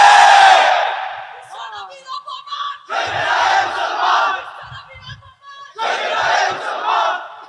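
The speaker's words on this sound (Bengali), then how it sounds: "এই তো স্লোগান দিলেন, বিশ্বনবীর অপমান সইবে না রে মুসলমান।" A large crowd at a religious sermon gathering chants a Muslim slogan in loud, rhythmic bursts. Each shouted phrase is separated by short gaps, and a lead voice starts the chant before the crowd answers.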